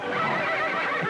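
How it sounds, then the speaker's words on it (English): A horse neighs and whinnies loudly and close for the whole moment, a strained, agitated call with faint hoof clatter beneath, from a restless, unruly horse in a rodeo-style riding scene. "I'm just worried about that crazy mixed-up horse."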